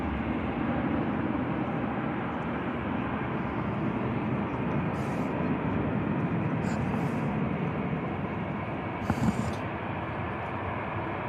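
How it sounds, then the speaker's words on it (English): An easyJet jet taking off from Manchester Airport in the rain, a steady broad engine roar heard at some distance, with a few faint brief clicks near the end. "EasyJet takes to the skies."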